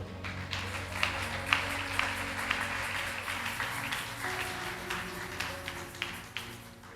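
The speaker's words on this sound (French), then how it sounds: "On acclame le Seigneur" A church congregation applauds the Lord during a worship service, steady crowded clapping going on throughout under sustained musical tones.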